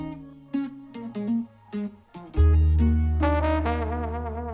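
Music from a song plays alone, opening with sparse plucked notes and chords before a deep bass and fuller arrangement come in, loud and steady.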